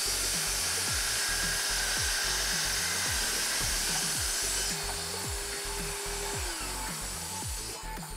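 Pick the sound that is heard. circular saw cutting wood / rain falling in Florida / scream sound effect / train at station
circular saw cutting wood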